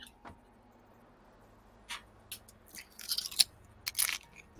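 Someone chews crunchy food, giving a few sharp, close crunches and bites, sparse at first and then clustering toward the end, with no talk over them.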